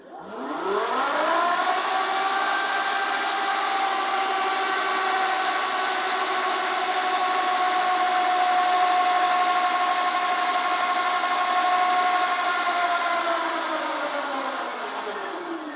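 An Alibaba EM22 e-bike motor, at full throttle during controller auto-learn, whirs up to a high, steady whine, holds for a long stretch, then spins down, with tones sliding up and down like a siren.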